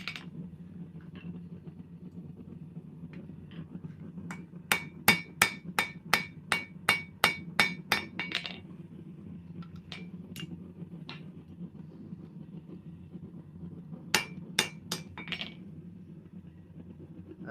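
Hot metal is hammered on a forge anvil in a quick series of about a dozen sharp, ringing strikes, then a few scattered blows, and later a shorter run of three or four, over a low steady hum.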